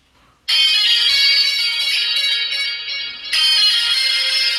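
Power-on tone from a green Snexian Rock R7 dual-SIM flip phone, a bright, loud electronic melody that starts abruptly, carries on for about four seconds with a brief dip, then swells again, heard alone and close by.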